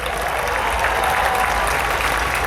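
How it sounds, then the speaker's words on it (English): Steady, dense applause from a large audience at a mayoral inauguration ceremony in Los Angeles, filling the space evenly without a break. "First, I want to thank, or let's give a round of applause to City Attorney Mike Fuhr, City Controller"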